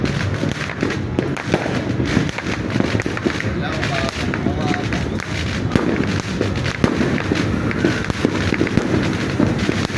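Small New Year fireworks crackle and pop continuously nearby, a dense rapid spatter of little bursts with some wind noise over the microphone.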